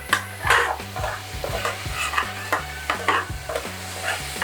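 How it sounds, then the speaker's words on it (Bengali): Thickened spice paste fries in a pan for a prawn curry, with a rhythmic stirring scrape repeating about twice a second over a soft sizzle, close and moderately loud. "একটু ভালো করে ভেজে নিচ্ছি আমি।"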